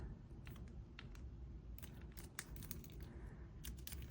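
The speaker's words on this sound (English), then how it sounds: "Snip off the excess." Small wire cutters snip excess jewelry wire on a handmade floral necklace, a string of sharp, quiet clicks scattered irregularly across a soft background.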